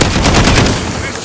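Dense automatic gunfire in Call of Duty Modern Warfare team deathmatch multiplayer, loud rapid overlapping bursts filling the whole moment with no pause.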